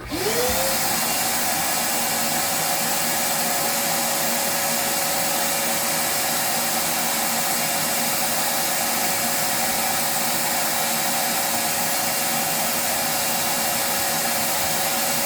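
Vacuum suction running during a bee hive removal, a loud, steady whining roar that starts up at once and holds constant throughout without voices.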